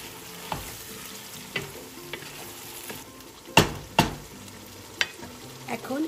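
Ginger garlic paste frying with softened onions in a pan, a soft steady sizzle broken by repeated sharp scrapes and clatters of a spoon stirring against the pan.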